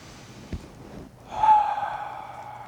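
A single slow, deep inhale drawn in gently, then a longer audible breath swelling and fading, close and quiet with no talk.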